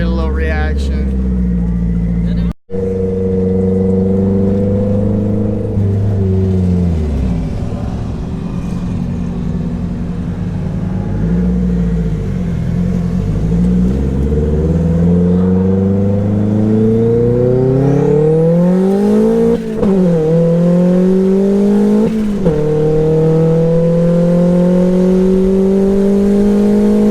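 A tuned, boosted Mazda Miata accelerates on a ride, its engine droning loud and close inside the cabin, pitch sweeping up and dropping through repeated gear changes, with a brief cut near the start and occasional voices.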